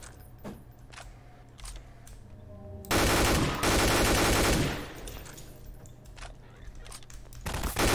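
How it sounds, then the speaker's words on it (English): Freddy firing a shotgun in a Gmod FNAF game, heard as a couple of loud bursts of gunfire in the middle that stand out over quieter clattering game noise, with another blast starting at the end. "Ow, Freddy with the shotgun."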